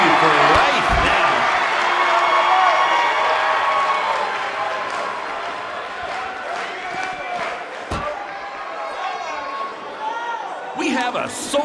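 An arena crowd cheering in the wrestling video game WWE 2K19, a broad roar that slowly fades while a commentator talks over it, with a couple of sharp thuds.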